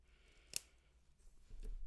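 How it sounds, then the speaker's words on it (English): Scissors or a diagonal cutter snipping through an LED light strip for a 3D printed handbag, a single sharp quiet snip in a nearly silent room followed by soft handling noise. "You can cut this with scissors, or you can cut this with a diagonal cutter."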